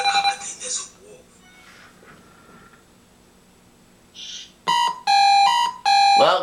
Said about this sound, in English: Well, Joey beat me to the buzzer, but he got it wrong.